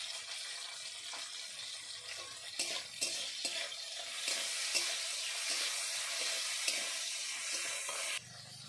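Vegetables, including bitter gourd, frying for Bengali shukto in a pan: a steady, bright sizzle of hot oil, broken by irregular spatula scrapes and clacks while they are stirred.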